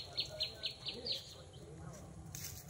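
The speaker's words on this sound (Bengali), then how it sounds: "কত রকম পাখি ডাকছে।" Birds call in a plant nursery garden, giving a quick run of high, faint chirps in a regular rhythm and then scattered tweets over low background murmur.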